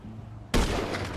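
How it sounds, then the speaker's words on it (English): One loud, sharp sniper rifle shot in GTA 5 breaks a quiet background, and its boom decays over the following second. "Now I'm taking the shot."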